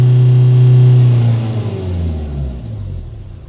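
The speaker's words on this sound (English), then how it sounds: "as the engine settles" The 1.9 dCi diesel engine of a 2004 Renault Scenic, close by, drops from a raised rev and settles into a low, steady idling rumble.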